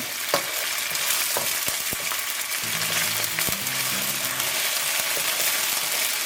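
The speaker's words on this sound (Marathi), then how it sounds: "जिंजर गार्लीक आनी चिली मातशी फ्राय करुया" Ginger garlic paste and green chilies fry in hot oil with a loud, steady sizzle, broken by occasional stirring scrapes close by.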